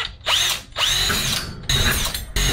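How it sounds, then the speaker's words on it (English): A power drill boring a pilot hole above a garage door for a Skylink Atom opener bracket, loud and close, in three whining bursts separated by brief pauses as the motor spins up and down. "It says to pilot drill a hole."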